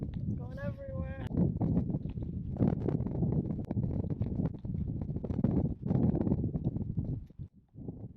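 Strong wind buffets a microphone in an exposed spot on Dartmoor during a bikepacking wild-camping trip, a loud continuous roar and rumble with gusts, briefly broken near the start by a higher tonal sound.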